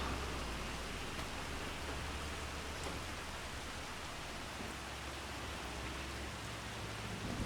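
Rain falls steadily in Farming Simulator 25 on the Riverbend Springs map, a constant broadband hiss with no breaks and no voices, like heavy rainfall on open ground.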